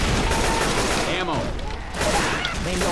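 Continuous gunfire from the Left 4 Dead 2 video game, bursts of rapid shots filling the whole stretch, loud and dense with faint voices underneath.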